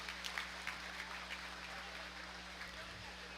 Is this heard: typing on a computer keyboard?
no